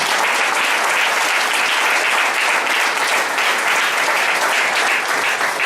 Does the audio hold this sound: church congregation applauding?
yes